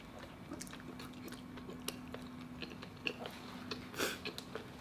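Biting and chewing KFC honey barbecue chicken close to the microphone: soft, irregular crunches and moist chewing over a steady low hum, with one louder bite near the end and no talk.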